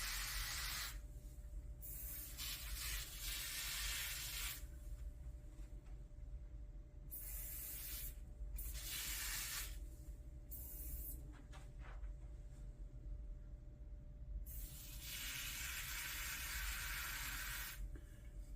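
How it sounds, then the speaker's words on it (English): A carpet cleaner aerosol can held upside down sprays in several bursts of sharp hissing, close and loud, separated by short pauses over a low steady background hum. "You spray the dirty spot and then you just walk away."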